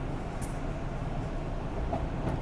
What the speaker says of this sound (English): That's the sound of the train,